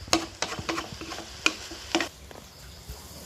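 Clattering stir-frying in a wok, food tossed with vegetables, with irregular scraping and tossing clacks and a soft sizzle underneath, close and moderately loud.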